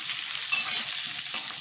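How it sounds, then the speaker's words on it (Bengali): Taro corms fry in hot oil in a vegetarian home kitchen, giving a steady, close hiss of sizzling with a couple of brief louder crackles as the pieces are stirred. "গাঁটিটা ভাজা হয়ে গেছে"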